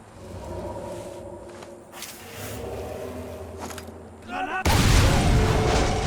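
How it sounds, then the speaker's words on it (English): Grenade exploding in the Sniper Elite 3 video game, a loud sudden blast near the end of the clip after quieter ambient sounds and footsteps. "I think this might be a good time for a grenade"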